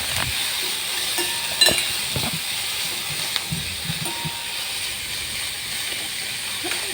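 Chopped onion sautés softly in a pan alongside sprouted moong for poha, a low, even hiss with a few scattered clicks of utensils against the pan.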